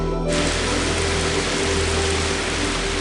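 Steady rain falls on the Japanese coast in an ama diving community, an even hiss of close, dense drops with no voices.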